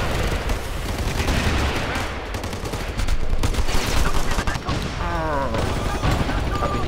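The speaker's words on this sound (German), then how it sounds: "Muss er nochmal schießen." Sustained gunfire from soldiers in Ghost Recon Future Soldier, dense rattling bursts running the whole clip with a machine-gun feel, loud and continuous, with a brief voice-like tone near the end.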